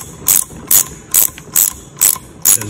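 A socket ratchet cranks down a nut on a valve spring compressor on a Vortec cylinder head, six crisp, evenly spaced clicking bursts close up and loud, with no speech.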